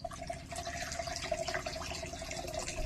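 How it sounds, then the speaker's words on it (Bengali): Water pours steadily into a pot to be boiled while making soybean momos, a brief, close, continuous gurgling fill. "জল দিয়ে দিচ্ছি, জলটা ফুটাবো।"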